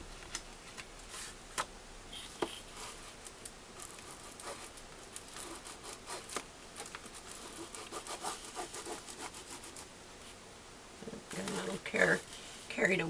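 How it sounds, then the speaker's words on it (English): Glued material being burnished down by hand, producing soft intermittent rubbing and scraping strokes at close range, fairly quiet, with a few sharper taps and a busier stretch near the end. "And we're going to burnish this down."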